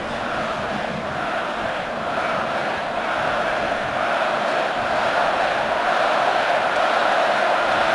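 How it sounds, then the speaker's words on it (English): Big Ten football stadium crowd during Wisconsin vs Nebraska, November 2014, chanting a player's name: a steady, dense roar of many voices holding at a loud, even level for the whole stretch. "Crowd chanting Melvin"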